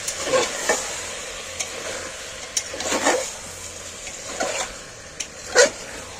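Mutton and potato pieces are stirred and sautéed in a hot pan, with a soft low sizzle under intermittent scraping strokes of a spoon every second or so, and no talking.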